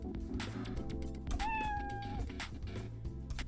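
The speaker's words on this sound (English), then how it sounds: "You found Scratch Kitten." Scratch kitten in a Scratch video game giving a single clear meow amid game background music, fairly quiet and not overlapped by speech.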